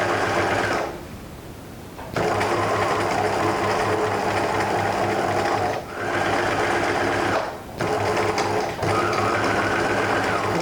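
A sewing machine stitches a fabric barrier face mask, backstitching and sewing into the fold. Its whir is loud, close and steady, stopping briefly a few times.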